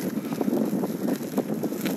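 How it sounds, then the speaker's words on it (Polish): Steady rushing wind buffets the microphone, a continuous broadband roar with gusty swells throughout. "Dość silny wiatr, ale jest ciepło"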